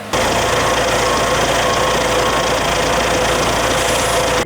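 A combine harvester engine runs in a wheat field with a steady, loud, droning idle that holds without a break.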